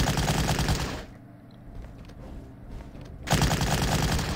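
Machine gun fire from the Battle Academy 2 war game plays in loud, dense sustained bursts. A long burst opens, then comes a quieter gap of about two seconds, then a fresh burst at full strength. No voices are heard.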